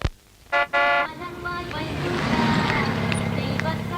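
A vehicle arrives with two short, loud horn honks near the start, followed by a steady, rising engine rumble as it pulls in close.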